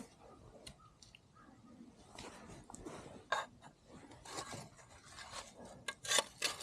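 Rust being scrubbed off metal heated with a SakerPlus torch, heard as quiet, uneven rasping and rubbing strokes with occasional louder scrapes.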